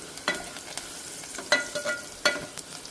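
Garlic sizzles and fries in a pan with a steady low hiss, broken by a few sharp scraping stirs of a spoon against the pan, no voices.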